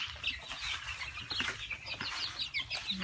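Several Thai native backyard chickens cluck and chatter nearby in a steady, busy stream of short calls, with light rustling in the background.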